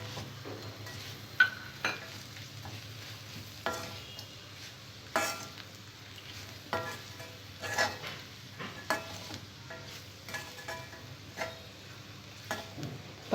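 A spoon stirring and tossing ivy gourd pieces with garlic chili powder in a pan, soft repeated scraping clicks at an irregular rhythm over a faint sizzle, with no voices.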